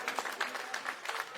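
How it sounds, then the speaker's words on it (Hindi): Applause rises for a family at a political rally in a Delhi assembly election campaign, a faint scattered patter of clapping hands with uneven bursts throughout. "ताली बजा दीजिए इनके लिए जोरदार।"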